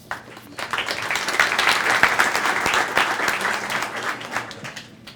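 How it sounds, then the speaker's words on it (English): Sustained applause from an audience at a student-of-the-month recognition ceremony in Hemet/San Jacinto, dense steady clapping that swells after a brief quiet start and continues for several seconds before slowly thinning. "Thank you for the applause"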